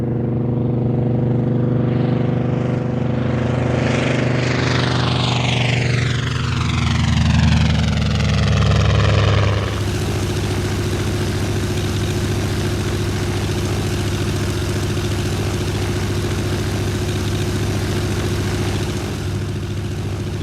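A Mitsubishi A6M5 Zero's Sakae 31, a 1,705-cubic-inch supercharged 14-cylinder two-row radial, runs loud and steady, its pitch shifting during the first half before settling into an even, throbbing drone that continues alone to the end.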